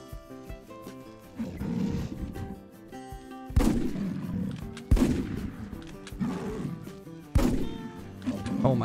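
Loud hunting rifle shots in a big game hunting game, three heavy blasts a couple of seconds apart, each trailing into a rumbling echo over a busy background with a faint voice.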